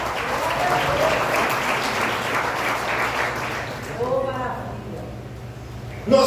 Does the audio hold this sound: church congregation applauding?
yes